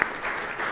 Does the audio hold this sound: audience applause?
yes